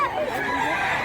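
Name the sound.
rooster crowing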